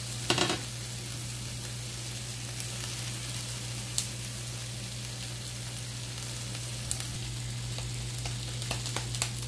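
Oil sizzling steadily on a comal griddle while being spread with a napkin, a constant soft frying hiss with a low hum underneath and a few faint clicks and taps.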